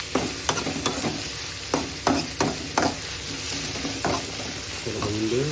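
Green chillies sizzling and frying in a pan, a steady crackle broken by sharp scrapes and knocks of a stirring spoon, close and alone with no voices.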